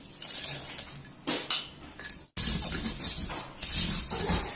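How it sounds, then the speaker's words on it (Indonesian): Peanuts are crushed coarsely in a mortar for Indonesian peanut sambal, a string of irregular scraping, grinding strokes with hard knocks and brief pauses, close and fairly loud. "Kemudian kacang tanahnya kita ulek."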